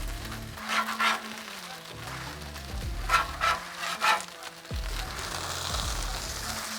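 Birria tacos being flipped on a hot griddle, a steady sizzle with scraping spatula strokes across the metal, plus a couple of louder scrapes and a low hum underneath.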